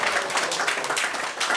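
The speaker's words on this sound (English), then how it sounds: "you deserve a round of applause" A round of applause from the audience at an ISKCON Ottawa temple rebuild fundraising dinner: steady, dense clapping that carries at an even level through the brief moment.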